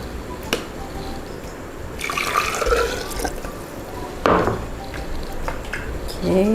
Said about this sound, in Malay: lebihan air rebus ikan tadi kita masuk je